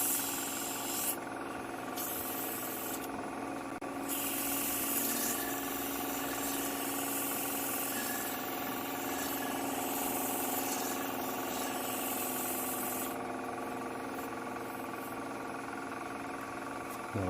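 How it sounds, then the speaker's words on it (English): A wooden spinning top is sanded as it spins on a lathe. The motor whirs steadily and close by, with a hissing rub of abrasive that comes and goes in several brief stretches. No one speaks. "Okay, I'm going to sand it."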